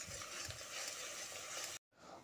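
Spice paste for a vegetarian Bengali aubergine dish stirred as it fries in a pan, a steady close sizzle with scraping strokes, cut off by a brief silence before resuming.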